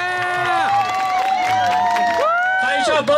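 A crowd at a Loi Krathong pageant at a Thai temple in Los Angeles claps and cheers for contestant number 13, a loud, dense wave of applause and whoops that carries on throughout.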